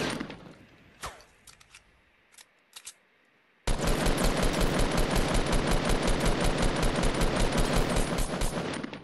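Rapid automatic gunfire in the video game Fortnite: a few scattered single shots, then a loud, sustained burst of fast, evenly spaced rounds lasting several seconds.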